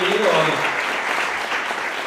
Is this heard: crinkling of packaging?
no